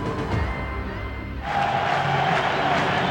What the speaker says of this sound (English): This crowd is still excited over Fred Barnett's touchdown catch, 47 yards.